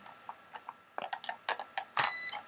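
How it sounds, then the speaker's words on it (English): A noisy IV infusion pump used for TPN running at close range, giving short repeated mechanical clicks and whirring bursts in an uneven rhythm, with one louder burst near the end. "this is the IV machine. It is a noisy fucker."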